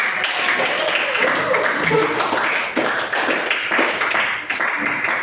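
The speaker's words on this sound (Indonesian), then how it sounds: "Sekali lagi tepuk tangan untuk semua" Classroom students clapping together in a dense, steady round of applause, close and fairly loud, with voices mixed in beneath the clapping.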